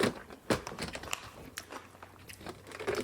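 Crunchy bites and chewing of pesticide-free bean sprouts, close and dry, with a sharp crunch near the half-second mark and softer mastication clicks and crackles continuing throughout, no talking.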